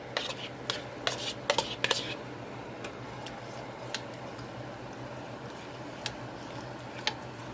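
Butter being stirred into a pot of heavy whipping cream, with soft repeated scrapes and light clinks of a utensil against the pot over a steady low background.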